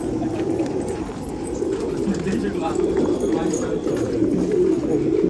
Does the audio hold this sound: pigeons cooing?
yes